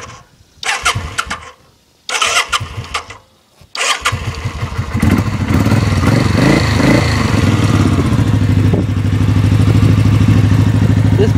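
A Kawasaki VN750 motorcycle on choke cranks in a few short bursts, then catches and settles into a loud, steady, close-up idle with a slightly raised, even rumble.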